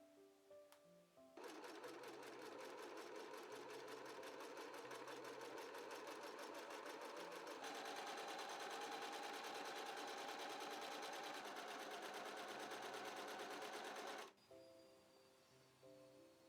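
Sewing machine stitching pieces of a Victorian cycling outfit, a fast, even mechanical chatter that runs steadily for about thirteen seconds, starting and stopping abruptly, with quiet room sound before and after and no voices.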